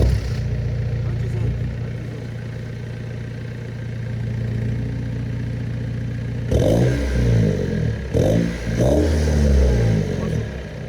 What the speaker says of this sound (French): démarre-nous ce véhicule